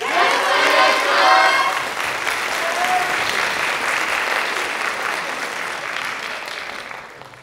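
An audience at the Aomori Yosakoi Disco dance event applauds and cheers for a Yosakoi team, with a loud, dense burst that settles into steady clapping and fades at the end.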